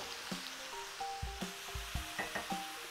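Onion sizzling as it fries in a pan in a home cooking setting, a steady close crackle broken by light stirring knocks and scrapes of a utensil, with no voices.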